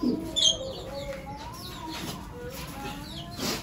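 Pigeons coo softly in a low, rolling murmur, with a few brief bird chirps and a faint cluck from nearby chickens in a close, quiet setting without speech.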